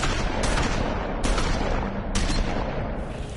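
Loud gunfire from The Wolf Among Us video game, set in Fabletown: three sharp blasts spaced about a second apart, each with a long reverberant tail, over a dense rumbling game soundtrack.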